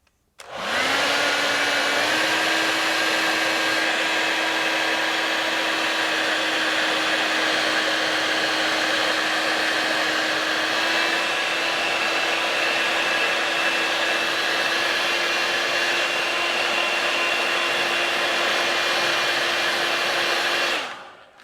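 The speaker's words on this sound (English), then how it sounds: "So we are going to use heat gun on this." A heat gun blows hot air in one continuous loud roar with a steady whine, used on speaker cable assembly, starting abruptly and running unbroken for about twenty seconds before cutting off, with no talk.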